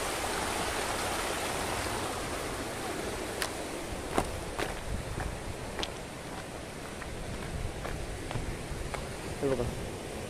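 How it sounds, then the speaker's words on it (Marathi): Spring water flows in a stream toward the sea on the Konkan coast near Burondi, Dapoli, a steady broadband rushing heard close throughout, with a few faint clicks and footsteps over it. "तिकडून हे झऱ्याचं पाणी येतंय."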